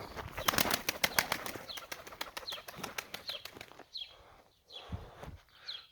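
Pigeons flap their wings in quick, sharp bursts of clattering beats, with rapid flurries early on and scattered wingbeats later, faint and fairly close in a quiet setting.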